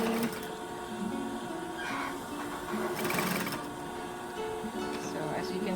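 Domestic sewing machine running slowly in short bursts while stitching gathered fabric for a puff sleeve, its quick mechanical whirring and needle clatter rising and pausing with faint handling noise between runs.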